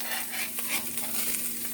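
Food sizzles and fries in a cast iron pan aboard a gyros food truck, giving a steady, moderately loud crackling hiss with faint stirring.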